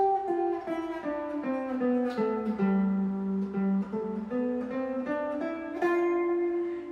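A G Mixolydian scale played on a keyboard-like instrument, single notes stepping up and back down at a steady pace, clear and close.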